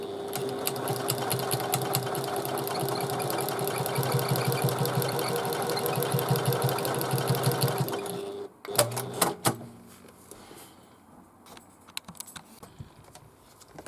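Sewing machine basting along the edge of a backpack, a steady loud mechanical whir of rapid stitching for about eight seconds, then stopping, followed by a few sharp clicks and handling sounds.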